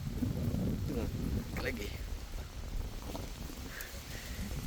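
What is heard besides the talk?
strong wind at lake Laut Tawar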